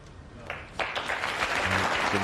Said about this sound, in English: And the applause, especially from the right-hand side of the arena